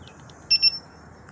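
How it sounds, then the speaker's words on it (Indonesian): A Begode EX30 electric unicycle sounds its tilt-back warning: two quick, loud, high-pitched electronic beeps, close and alone against quiet background noise. "Tapi di sini beep-nya cukup kencang sih dibanding yang lain."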